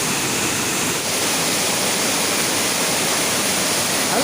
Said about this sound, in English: What a sounding of the waterfall and the roaring sound is pretty beautiful